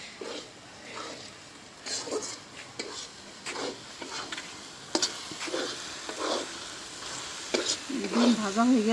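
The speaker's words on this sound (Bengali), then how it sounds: "ডিম ভাজা হয়ে গেল, কতটা তেল দিছি।" Frying in oil in a pan with a spatula stirring, a soft sizzle under repeated scraping and tapping strokes at an uneven rhythm, fairly close and moderately quiet, with a brief voice-like sound near the end.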